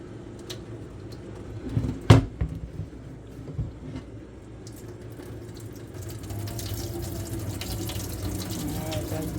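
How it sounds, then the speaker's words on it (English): Boiled white lima beans are tipped into a sink to drain. A sharp knock lands early, and then the water rushes out in a steady stream that grows fuller toward the end. "it has fluffed up the beans from the boil. So I'm going to drain."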